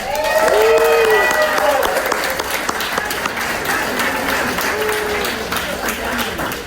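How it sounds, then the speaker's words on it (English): Loud audience applause fills a gubernatorial candidate forum, sustained clapping with a voice and a few cheers mixed in over it, easing slightly toward the end. "big round of applause."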